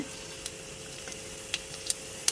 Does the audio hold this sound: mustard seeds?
yes